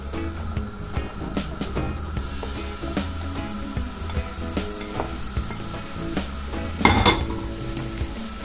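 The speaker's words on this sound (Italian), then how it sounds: "Iniziamo con lo sciogliere il burro in una padella. Aggiungiamo le mele." Apples cooking in melted butter in a pan, with steady soft sizzling and frequent utensil clinks and scrapes against the pan; a louder clatter comes near the end.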